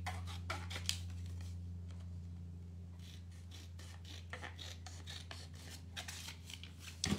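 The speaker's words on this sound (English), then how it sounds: "I've got a pair of scissors in my hand." Scissors cut through paper barcode strips at a scrapbooking table, giving close, repeated rasping snips in an irregular rhythm over a low steady hum.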